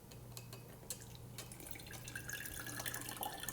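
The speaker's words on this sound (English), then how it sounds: "You pour the cleaner water into it." Cleaner water being poured into a homemade filter, a soft trickling and dripping stream that grows slightly busier toward the end, faint and close, with a low hum beneath.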